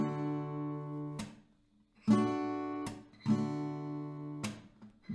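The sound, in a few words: acoustic guitar down strokes with pauses and claps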